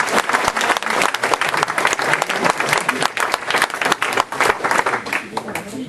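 Loud, dense applause fills a public meeting hall as an audience at a local campaign gathering claps continuously and close by, with a few individual claps standing out in the sustained wash.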